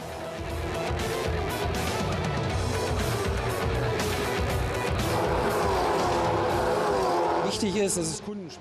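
SEAT Leon Eurocup race cars drive on a circuit such as the Circuit de Catalunya in Barcelona, engines roaring steadily up close with passing surges, while a voice talks over the noise throughout.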